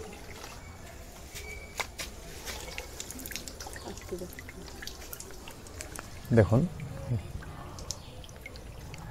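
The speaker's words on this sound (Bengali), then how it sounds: "বলদের মধ্যে পানি ভরা হচ্ছে এবং সেই পানি এই পাইপ বেয়ে বেয়ে একদম জরায়ুর ভিতরে যাচ্ছে" Water poured from a jug runs down a pipe into a cow's uterus during treatment for a retained placenta after calving, a soft pouring trickle mostly masked by steady talk, with a brief louder splash near the end.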